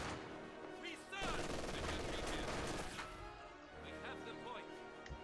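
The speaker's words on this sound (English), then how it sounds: "And MG42 to the rescue." MG42 machine gun fire in Company of Heroes 2, a dense sustained burst of rapid rattling shots with other battle noise, loud throughout and strongest in the middle, with a commentator talking over it.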